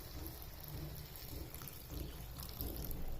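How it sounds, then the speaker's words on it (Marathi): Hot water is poured into a pan of fresh green pea keema, giving a steady rushing, hissing splash that runs for about three seconds and swells slightly toward the end. "यात टाकते मी आता थोडंसं गरम पाणी."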